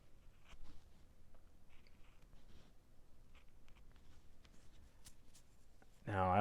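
A sharp carving tool cuts into a wooden gnome, giving soft, scraping, shaving strokes that come in close, quiet, and intermittent, ending with a sudden louder burst.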